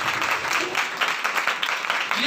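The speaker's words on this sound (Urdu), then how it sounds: "سب لوگ اپنے لیے تالیاں بجائیں" A church congregation claps during a New Year sermon, bursts of loud, uneven group applause rising and falling over a couple of seconds, with some voices mixed in.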